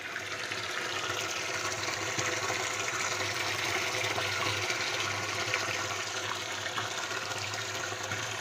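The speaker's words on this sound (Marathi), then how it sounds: "बरेच बॅरल भरला आहे." Water pours steadily into a barrel at a farm motor outlet, a constant loud, close splashing rush with no break.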